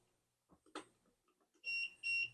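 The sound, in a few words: Arduino RFID home automation alarm for unidentified card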